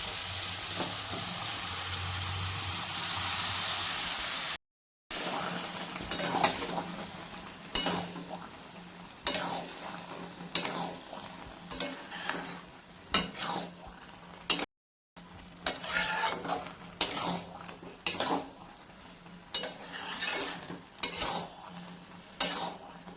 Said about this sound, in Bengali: আমি এখন সম্বরা দেবো এটার মধ্যে ঢেলে দেবো